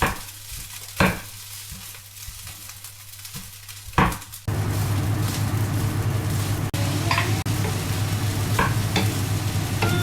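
Leftover rice from the day before is stirred and fried in a pan, with scraping utensil knocks at first, then a loud steady sizzle taking over as the rice hits the heat, with occasional scrapes.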